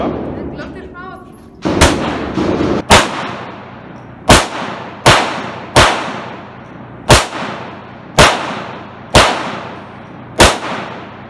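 Pistol shots ring out at an outdoor shooting range: about ten sharp, loud reports, some in quick pairs, with short echoing decays. Faint voices come before the first shot.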